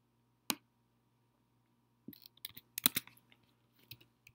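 Typing on a computer keyboard while setting up a browser login: a single click, a pause, then a quick irregular burst of close keystrokes trailing into a few scattered taps.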